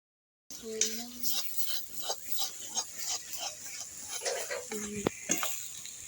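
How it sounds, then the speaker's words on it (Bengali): Taro leaves and prawns being stirred in a pan, with repeated scraping and clinking strokes over a soft background sizzle and brief voice-like tones at the start and near the end. "এখনো 5 মিনিট আমি নেড়ে নেবো, কারণ কচু শাক হতে একটু দেরি হয়"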